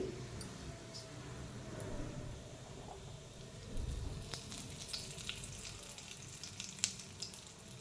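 Cinnamon and cloves sizzle in oil for a paneer curry, a soft continuous hiss with scattered small crackles and pops, fairly quiet and close, with no voices over it.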